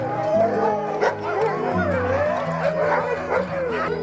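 Sled dogs at a Minnesota dogsledding kennel howl and yip together in a loud, close chorus of overlapping wavering howls and sharp barks, with voices mixed in beneath.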